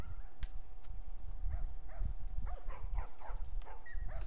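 Dogs in The Last of Us barking and yipping in short scattered calls at moderate distance, over a low rumbling game background.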